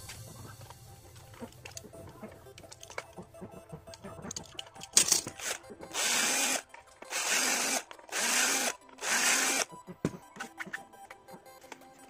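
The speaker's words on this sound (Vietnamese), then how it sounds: "Thì mình khoan 4 lỗ để mình sạc đó," Power drill boring four holes in the casing of a homemade battery-powered fan, heard as four loud sustained whirring bursts of about a second each, close up, after a stretch of quieter handling noise and clatter.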